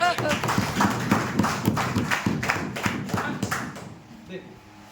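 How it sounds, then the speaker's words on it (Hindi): Audience clapping at a live motivational program, a dense burst of many hands close by that builds strongly and then tapers off, with voices mixed in and a brief lull near the end. "अरे जबरदस्त ताली हो रहा है"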